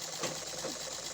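A brief, close run of a sewing machine stitching cloth, a steady mechanical hum and rapid needle chatter with no pause or talking.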